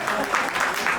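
Audience applause at a televised Uzbek game show, a steady, moderately loud patter of clapping with no voices over it.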